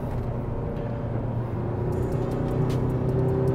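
Tata Harrier 2025 driving in sport mode around 100 km/h in third gear, a steady low engine drone and road rumble holding continuously and slightly building toward the end.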